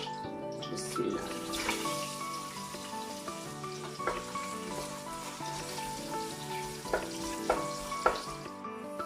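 Onions sizzle steadily in hot oil, with occasional clinks and scraping of stirring against the pan; fairly quiet, no talking.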